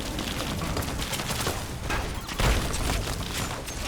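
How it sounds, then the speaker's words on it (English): Grenade explosions and gunfire burst in rapid succession in a Fallout video game firefight, a dense loud barrage with a heavier boom partway through. "They're throwing grenades at me."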